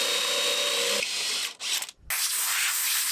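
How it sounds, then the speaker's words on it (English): A power drill bores holes into steel angle iron while a reclaimed cedar roof deck is installed on a converted school bus, a loud whining run that cuts out briefly, then resumes at a steady pitch. "we've got to drill 2 holes into the end and into the angle iron."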